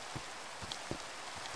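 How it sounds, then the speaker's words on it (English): Steady hiss of rain falling in the Minecraft video game, a dense even wash with faint scattered taps and thuds throughout, no voices over it. "Rain and misery."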